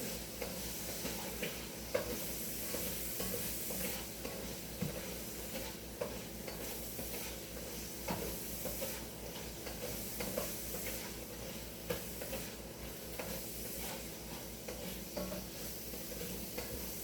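Food sizzling and hissing steadily in a pan with occasional stirring scrapes and light clinks, a constant close frying sound lasting the whole stretch with no talk.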